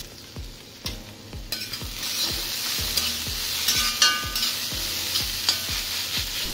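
Stuffed bitter gourd frying in oil in a pan, a bright steady sizzle broken by a regular series of sharp spatula clicks and scrapes as it is stirred, close up with no voices.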